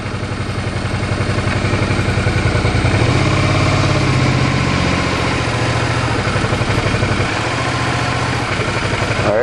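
A motorbike engine runs steadily and loud on an Arctic gravel road, a close, even idle-to-mid rumble with slight clatter and vibration, shifting tone briefly around the middle.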